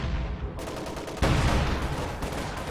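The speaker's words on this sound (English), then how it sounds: "Oh, that was a decent barrage." Heavy artillery barrage in the World War II strategy game Company of Heroes 2, with B4 howitzers in a large battle: a steady wall of rumbling blasts that swells louder partway through and rolls on without let-up.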